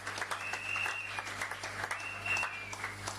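A church congregation at a Sunday worship service breaks into sustained, dense applause: steady clapping fills the room from start to finish over a low constant hum, with a faint whistling tone drifting above the crowd.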